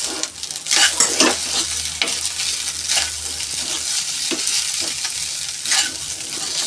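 Potatoes, cauliflower and peas stirred into a pot of vegetable pulao masala, with steady frying sizzle and a few louder scraping strokes of the spoon, close and continuous without any voices.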